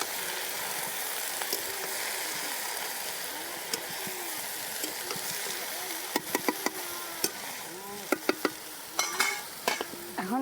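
Spinach and radish greens stir-fry in a pan with a steady broad sizzle throughout, punctuated by sharp clicks and scrapes of a spatula against the pan, with bursts of clatter in the second half.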